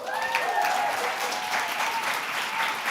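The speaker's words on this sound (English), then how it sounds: "you really have to hold your applause for the big one" An audience applauds at a medical school awards ceremony, producing a loud, sustained roar of clapping from a large crowd, with a faint voice or tone briefly audible underneath near the start.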